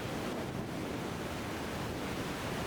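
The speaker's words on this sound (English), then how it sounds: "We are at the fourth waterfall on our journey from south to north at Vermillion" Vermillion Falls, a waterfall in Hastings, Minnesota, roars as a dense, steady rush of falling water that fills the space evenly and loudly with no other sounds.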